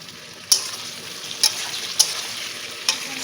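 Pumpkin, beans and eggplant fry in oil with a steady low sizzle, broken by four sharp clinks or scrapes of stirring spaced across the moment.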